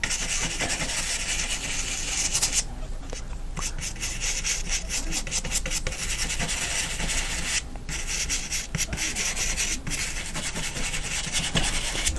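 A 1-inch brush scrubs paint onto canvas in small frilly circles, giving a steady dry rubbing and scratching texture close up, continuous with brief pauses and no talking.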